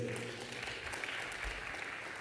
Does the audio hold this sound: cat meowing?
no